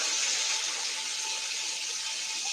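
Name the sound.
water running from a tap while rinsing hands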